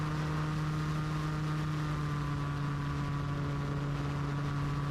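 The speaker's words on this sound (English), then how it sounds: "Nice control of the engine." A gyroplane engine running in flight gives a continuous, steady droning hum with a strong tonal buzz, even and unbroken from start to finish with no voices.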